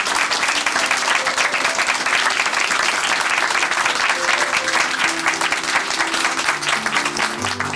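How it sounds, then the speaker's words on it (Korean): A church congregation at Chuncheon Hanmaum Church applauds steadily after a testimony, dense clapping filling the room at an even, sustained level throughout. "다시 한번 큰 박수 보내드릴게요."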